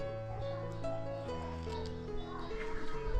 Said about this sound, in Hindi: वहाँ पे भी ना प्रेयर चल रही है, तो वो आवाज़ यहाँ तक क्लियरली सुनाई दे रही है